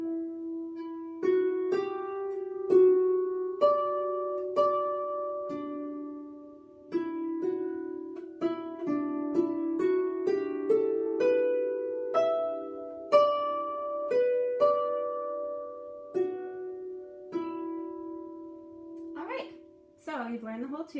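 A harp plays the tune Bonny at Morn, right-hand melody only, as a clear series of plucked notes that ring and decay in a moderate rhythm, close and solo, ending with a brief vocal sound.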